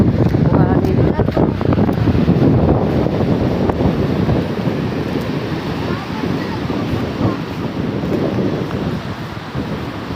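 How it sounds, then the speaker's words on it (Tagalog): Sea waves wash in continuously at a beach while strong wind buffets the microphone, a loud, close, unbroken roar of surf and gusts with no clear speech. "nandito tayo sa dagat"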